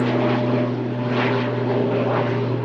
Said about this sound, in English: It's an airplane.